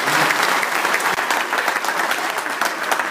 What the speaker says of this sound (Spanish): yo quiero un aplauso para todos los trabajadores de nuestro municipio de Pinotepa Nacional